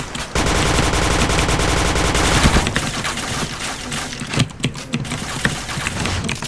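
Point Blank video game gunfire: a long, loud, continuous burst of automatic fire up close, followed by scattered single shots and clicks at a lower level.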